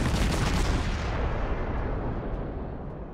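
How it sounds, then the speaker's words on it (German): Incoming naval shells in World of Warships land with a loud, heavy booming blast that rolls into a broad rumbling roar and slowly fades. "Ja, jetzt kommen auch einige Granaten rein"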